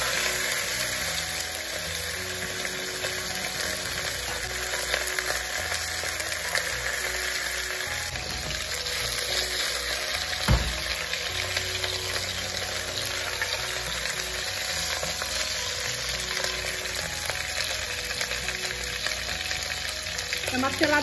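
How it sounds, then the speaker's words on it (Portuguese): Beef rump cap (maminha) searing fat-side down in a pressure cooker, a continuous loud sizzle and crackle of frying fat with a brief thump midway, no voices. "Então eu vou começar a selar a parte que tem mais gordura."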